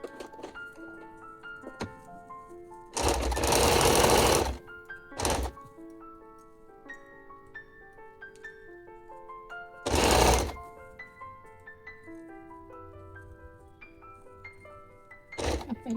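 An electric sewing machine stitching a kurti, with short mechanical bursts of rapid stitching separated by pauses and quieter thunks, close and clear.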